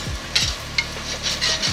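Mixed vegetables stirred in a big pan for a mahi mahi dinner, with a few soft scraping stirs and light sizzling, close and fairly quiet, no talking.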